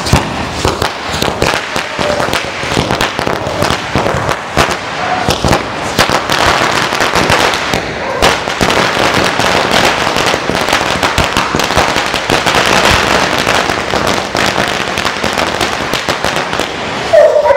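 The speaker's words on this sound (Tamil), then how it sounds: "இது வந்து 1000 வாலாங்க" A 1000 wala firecracker string bursting for Diwali fires a dense, loud, continuous chain of rapid pops and cracks.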